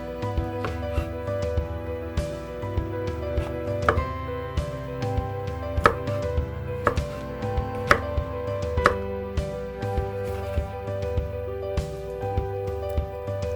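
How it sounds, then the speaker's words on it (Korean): A knife slices shiitake mushrooms about 5mm thick on a cutting board, with a regular run of sharp chopping taps standing out over a sustained tonal background. "버섯의 기둥은 잘라내고 5mm 정도의 두께로 잘라줍니다."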